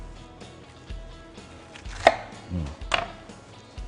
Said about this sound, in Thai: เดี๋ยวเรา เตรียม หั่น กะหล่ำกันก่อนนะครับ